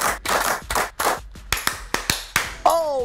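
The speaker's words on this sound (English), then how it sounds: "the interactive clapping is a high energy lesson of the value of active listening" An audience at a keynote claps in unison, several sharp rhythmic claps coming in bursts and then spacing out into single loud hits, ending with a brief whoop.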